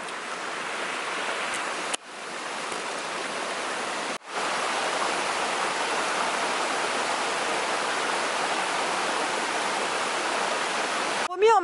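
Doncaster river rushing through a forest at Saint-Adèle, a steady broadband roar of flowing water close by, broken by two brief handling knocks and a short bump at the end.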